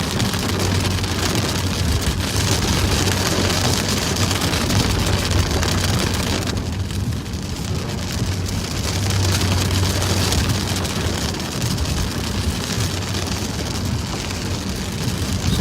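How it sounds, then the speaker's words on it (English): Steady rain patters down outdoors during a police patrol, a dense, continuous hiss of drops with a low rumble of an idling car underneath, briefly softening midway before resuming. "sorry about the rain here"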